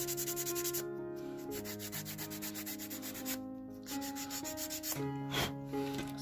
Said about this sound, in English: I'm just gonna take some more coarse sandpaper and just sand it down a bit